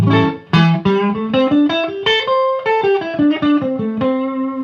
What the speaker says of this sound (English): this is the sound of the minor in A.